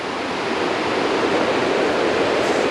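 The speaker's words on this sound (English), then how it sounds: "There's that beautiful river right down there" A river rushes and tumbles below Baby Falls near Tellico Plains, Tennessee, a loud, steady broadband roar of flowing water close by with no breaks.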